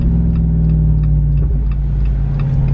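A 2021 Jeep Wrangler Rubicon 392 with its V8 HEMI idles loud and close, a deep steady rumble with a faint rhythmic ticking over it, no voices.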